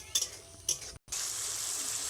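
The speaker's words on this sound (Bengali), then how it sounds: "পেঁয়াজটাকে একই রকমভাবে লাল লাল করে ভেজে নেব।" Onion paste frying in oil for a Bengali koi fish curry gives a soft, steady sizzle, broken early by two brief scraping stirs and a momentary dropout before the frying hiss resumes, close and quiet.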